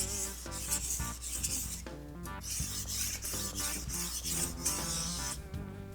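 A dull kitchen knife is stroked back and forth on a whetstone, giving a quiet, continuous rasping scrape in steady repeated passes, close up with no talking.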